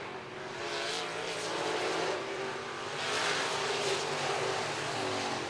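Modified race cars roar around the RPM Speedway oval, engines droning and swelling as the pack passes, loud and continuous from a distance with no voice in the mix.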